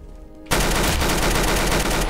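Gunfire in a Roblox obby game erupts suddenly into a dense, loud, continuous burst of rapid shots lasting about a second and a half.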